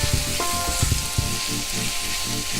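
Tomato and onion with salt frying in a pan, a loud close sizzle broken by a few sharp spoon scrapes and knocks from stirring early on, then steady frying.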